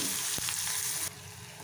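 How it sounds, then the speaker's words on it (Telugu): Onions, curry leaves and ginger-garlic paste sizzle steadily in a hot pan for a prawn curry, with a brief stir scraping through the constant hiss. "దీంట్లో అల్లం వెల్లుల్లి పేస్ట్ పచ్చివాసన పోయేదాకా ఫ్రై చేసుకోవాలి"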